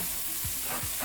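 Sausage and peppers sauté in a pan, a steady soft sizzle throughout with a couple of low scraping stirs, fairly quiet and without talk.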